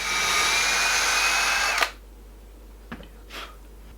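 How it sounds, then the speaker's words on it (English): Power drill with a 3mm bit boring a hole into the end of a wood and resin pendant, a close, steady high whine that stops abruptly, followed by a couple of faint clicks. "I'm just going to take my drill with a 3mm drill bit,"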